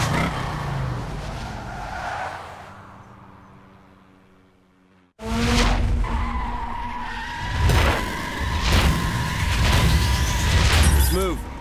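A Dodge Challenger race car skids on snow in The Crew video game, with a loud engine and tire noise that drop away briefly before the car roars back and skids again, clearly under game voice chatter.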